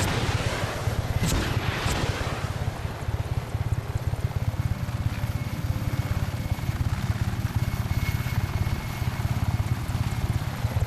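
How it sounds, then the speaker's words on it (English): Continuous loud rotor and engine roar from a helicopter in the video game Just Cause 3, thick with rumble, while sharp bursts like gunfire or explosions break in near the start. "Dispatching chopper support to contact point."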